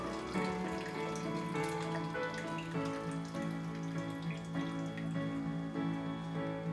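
Tap water runs steadily into a sink, a constant rushing splash with a ringing, tonal quality that holds at an even level throughout, with no talking.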